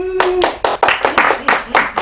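An audience at a Thai talk show claps in welcome for an arriving guest, a loud burst of close, uneven applause following a spoken line from the host.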